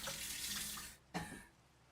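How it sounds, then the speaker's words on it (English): A tap runs steadily as water fills a container, a continuous rushing splash that cuts off, followed by a short splash and then quiet. "I am out of water. I need to get more. Yes, I love water from the tap."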